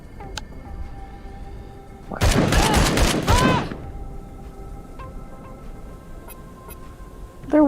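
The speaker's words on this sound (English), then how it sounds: "He's got a laser gun." Rapid burst of laser-gun fire in a shooter video game, a dense stream of bright zapping shots lasting about a second and a half against a steady background hum, followed by quieter game ambience and a sharp sound at the end.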